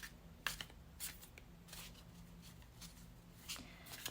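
Tarot cards are shuffled by hand in a quiet room, several soft riffling bursts spaced irregularly over a few seconds, faint and close with near silence between them.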